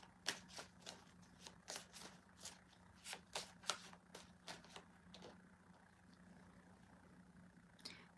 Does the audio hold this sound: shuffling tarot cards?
yes